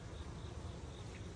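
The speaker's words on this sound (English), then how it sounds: "y'all probably see me walking up on this beehive." Bees buzz around a beehive outdoors, a dense, continuous droning hum heard up close at a steady level, with no talking.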